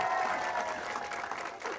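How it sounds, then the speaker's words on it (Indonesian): A studio audience at a comedy game show applauds the first couple, a steady dense wash of clapping lasting under two seconds, with faint background music or voices mixed in. "Tepuk tangan untuk pasangan yang pertama."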